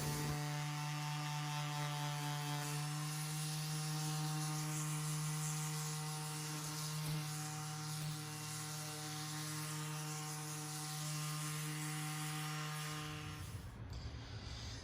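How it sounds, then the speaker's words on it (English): A power sander with 60-grit pads smooths wooden countertop planks, a loud steady close-up whine and drone that runs unbroken before cutting out near the end. "The sander can walk around from plank to plank."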